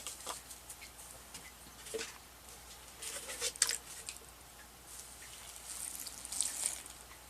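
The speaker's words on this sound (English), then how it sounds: "Add some water to that." Water trickles and patters onto potting soil set aside for repotting a jewel orchid, with soft irregular drips and splashes, quiet and close, rising in a few brief bursts.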